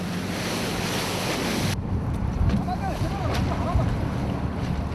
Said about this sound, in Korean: 생각보다 높게 이는 파도.